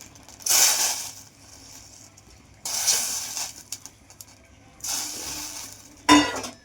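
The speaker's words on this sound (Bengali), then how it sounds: "দেখুন জলটা ফুটে এসছে, এবার আমি আমসত্ত্বগুলো সব ছেড়ে দিলাম" Pieces of mango leather dropped into boiling water in a pan, heard as three loud, hissing, bubbling bursts a couple of seconds apart, each ending with a sharp clatter at the close; no voices.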